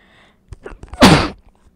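One loud, sharp sneeze bursts out close by after a short breathy intake, with a few quiet sounds before it, in an office setting.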